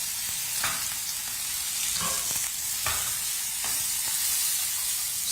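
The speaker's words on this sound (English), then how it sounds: "make sure the oil is extremely hot so that you can hear the sizzling sound when you put your lamb chop in the pan" Lamb chops fry in very hot oil in a pan, a continuous loud sizzle broken by several bursts of spattering and stirring, with no voices.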